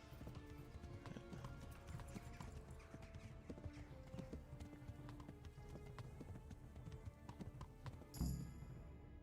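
Horse hooves clip-clop in a steady trotting rhythm in the medieval video game Kingdom Come: Deliverance, fairly quiet and continuous beneath soft ambient game music, with a brief louder impact near the end.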